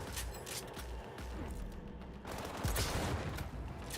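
Sniper and other gunfire in the Cyberpunk video game, dense overlapping shots and rattling bursts under a constant loud wash of game noise and mechanical clatter.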